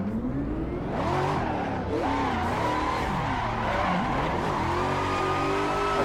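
Toyota GT86 in the Assetto Corsa racing game at Atron Circuit, its tires squealing and skidding under braking while the engine revs rise and fall, loud and continuous with no talk.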